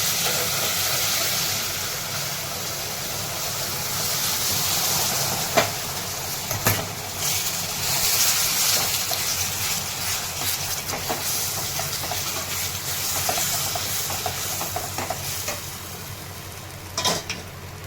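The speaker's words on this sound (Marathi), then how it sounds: "आता हा रवा भाजलेला आहे तुपामध्ये आता यामध्ये दूध टाकून घेणार आहे तापलेलं दूध गरम" Hot milk poured into semolina roasted in ghee for mango sheera, a steady loud sizzle and hiss with steam, broken by a few scraping stirs and clinks, no voices.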